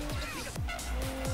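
A Ferrari 458 Italia 2009 drifts in Need for Speed, its engine revving in repeated rising and falling sweeps with a steady high whine, loud and close.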